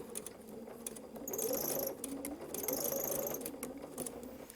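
Sewing machine stitching fabric along a curved seam, running in two steady mechanical bursts of rapid whirring and clicking with a brief slowdown between them, close and moderately loud, with no voices.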